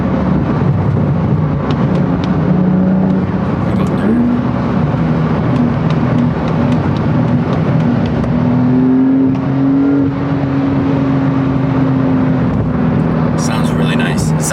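Car engine held at steady revs with a smooth upshift into fourth gear, rising tone under continuous cabin noise and someone talking over it.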